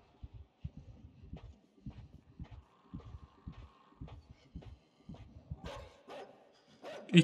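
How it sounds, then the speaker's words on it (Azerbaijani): A dog in the video game Inside barks in a string of sharp, loud, irregular bursts over a quiet, dark ambient backdrop, with a louder clatter at the end. "İt dala bizə hürür özdə"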